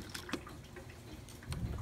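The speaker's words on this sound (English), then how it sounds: "even though it's raining in the review" Rain falls outdoors as a faint, steady patter with scattered light drips and splashes, a soft wet hiss throughout and a slightly louder rumble near the end, with no talk.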